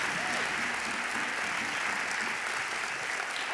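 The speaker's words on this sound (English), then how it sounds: "So please give her a big round of applause for what a tremendous job she's done" A large audience at a demo day applauds steadily and loudly, a dense wash of clapping with no breaks that fills the room from start to finish.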